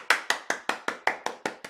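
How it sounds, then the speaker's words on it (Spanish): Nine crisp hand claps in a quick, even rhythm, close by and fairly quiet, with nothing else heard. "Aplausos."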